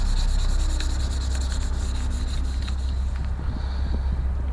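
Hand sanding rubs steadily and continuously across a plastic part of an OcCre Flying Dutchman 1:50 scale wooden model ship kit, the abrasive scraping close and even with a low background hum.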